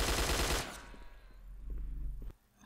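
A burst of automatic gunfire rips out loudly in the tactical shooter Hidden and Dangerous, then cuts off, leaving a quieter rumbling tail of game ambience.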